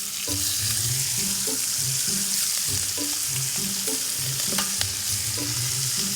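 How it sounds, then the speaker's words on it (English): Thick cut bacon sizzling and frying on a kettle grill, a steady close hiss of fat with scattered pops and crackles running continuously throughout. "Thick cut bacon. Nice. Some more bacon."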